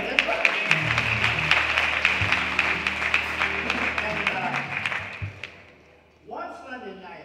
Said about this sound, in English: Clap your hands, that's right.